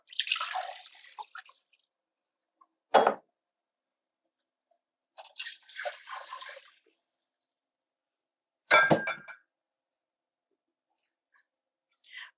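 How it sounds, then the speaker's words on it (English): Beef broth is poured into a soup pot in several separate short splashing pours, close and clear, with silent gaps between them. "Then we add the beef broth to the pot."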